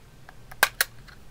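A 9 volt battery snapped into a cordless microphone transmitter: two sharp plastic clicks close together, with a few faint handling taps around them in a quiet room.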